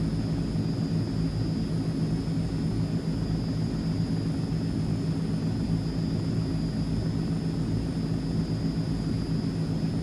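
Steady, loud drone of a Transall C-160 twin-turboprop transport plane in a flight simulator game, a continuous low propeller and engine roar with a faint high whine, unbroken for the whole stretch with no voices.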